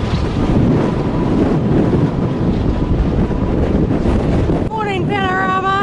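Strong wind roars across a hilltop wind farm on a North Island ranges thru-hike, a loud, steady buffeting rush against the microphone with a brief higher whistling tone near the end.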